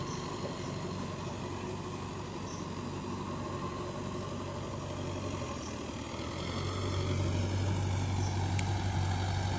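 A Mahindra Yuvo Tech Plus 575 DI tractor engine runs with a steady, continuous drone that swells slightly louder toward the end, with no voices over it.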